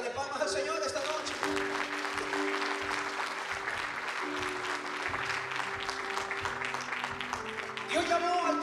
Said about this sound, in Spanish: Puedo darle palmas al Señor esta noche.